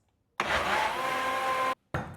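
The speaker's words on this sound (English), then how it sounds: "I'm just going to blend that up now" A Beast blender whirs loudly as it blends chocolate mousse, running in one steady burst of about a second and a half, stopping abruptly, then starting again briefly.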